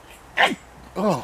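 A sneeze bursts out near 0.4 seconds in a domestic room, a short sharp nasal blast followed by a separate spoken exclamation, with faint room noise between.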